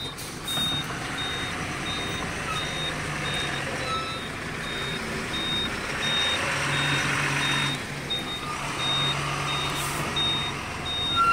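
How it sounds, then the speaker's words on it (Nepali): A heavy truck arrives on a rough road, its evenly spaced reversing beeps sounding steadily over a low engine rumble, fairly close, with no talking. "गाडी बल्ल बल्ल आइपुग्यो"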